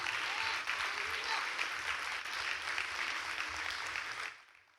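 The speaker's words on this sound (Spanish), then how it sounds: "Den un aplauso a sus pastores" Church congregation clapping for their pastors, a full steady round of applause with faint voices underneath that stops abruptly near the end.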